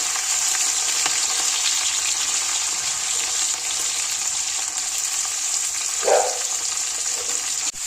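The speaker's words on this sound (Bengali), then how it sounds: "ওই তেলের মধ্যে সমস্ত সবজিগুলো ভেজে দেবো। প্রথমে ফুলকপি আর বিনসটা ভাজবো।" Cauliflower and beans frying in hot oil give a steady, loud, hissing sizzle throughout, with a brief stir or clatter near the end and no talking.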